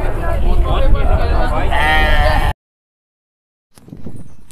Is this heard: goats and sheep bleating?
yes